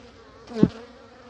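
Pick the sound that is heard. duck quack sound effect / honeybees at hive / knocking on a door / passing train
honeybees at hive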